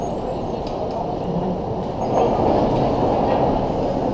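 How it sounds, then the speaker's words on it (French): Roller coaster train at Parc Astérix pulling out of the station with no riders, heard as a steady rumbling rail roll with a slight swell midway, set against park ambience in rainy weather at night. "il y a un train qui part vide"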